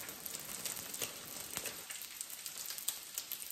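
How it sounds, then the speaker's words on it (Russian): Potatoes fry in a pan with a faint, close, continuous crackling sizzle and scattered small pops. "И сразу жарить картошку."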